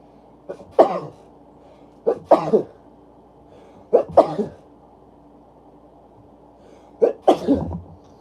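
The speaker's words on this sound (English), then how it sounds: "Let me sneeze first, though." Four separate sneezes, close and loud, spaced a couple of seconds apart, each with a sharp intake and burst, with no talking.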